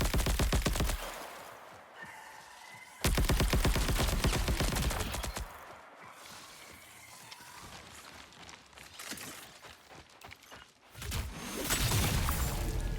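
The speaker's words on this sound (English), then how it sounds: "luckily I have some sort of heat-seeking volt gun" Heat-seeking volt gun fire in the video game Marathon, with loud sustained bursts of crackling weapon noise separated by short quieter gaps.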